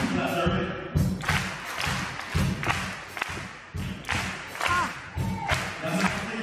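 A gathered group claps together in short sharp bursts that recur regularly amid dull thumps, crowd noise and people talking.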